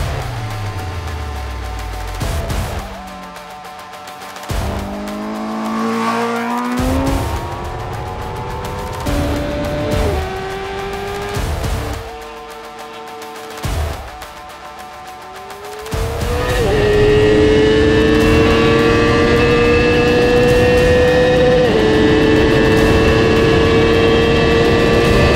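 A Honda CBR 1000RR-R Fireblade SP sport motorcycle accelerates flat out through the gears, its engine screaming loud and close with rising pitch and brief drops at each shift before settling into a sustained high-speed howl.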